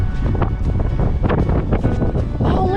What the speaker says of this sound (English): Oh, it's windy today.